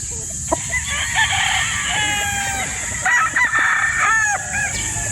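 A Gilmore gamefowl rooster on a farm crows loudly and close several times, with clucking from nearby fowl and a steady outdoor hum beneath.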